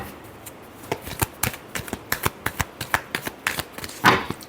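Tarot cards being shuffled by hand in a rapid series of crisp riffling bursts, close and distinct, ending with one heavier slap.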